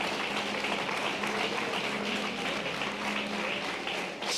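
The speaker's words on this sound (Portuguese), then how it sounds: "Você pode aplaudir o nome dele?" A church congregation gives steady, moderately distant applause, a continuous patter of many hands clapping for a few seconds while a low sustained tone hums underneath.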